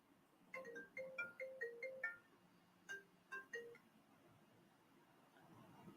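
Phone ringing during a callback, a repeating electronic ringtone melody in two bursts with a pause between, faint and alone over low background hum.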